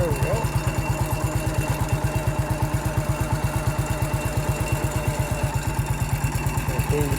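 MF 14 bulldozer engine chugging with a fast, steady low exhaust pulse while driving over a tree in a yard, loud and close throughout, with faint creaks and rustles on top.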